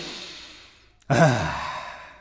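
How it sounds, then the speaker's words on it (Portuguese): One deep, audible breath during a vocal warm-up exercise with arms raised, a sudden loud airy rush after a quiet lead-in that fades gradually, with no talking. "braços para cima, respiração profunda e inspirem."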